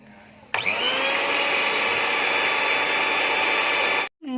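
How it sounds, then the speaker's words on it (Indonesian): A grinding machine mills dried meniran herb into powder, switching on abruptly into a loud, steady high-pitched whine with a rushing noise that holds evenly for several seconds before cutting off. "Dan ini adalah meniran yang akan kita giling."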